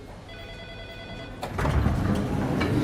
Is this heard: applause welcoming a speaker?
no